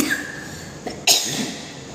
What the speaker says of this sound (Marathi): खोकला येतो आता थोडा थोडा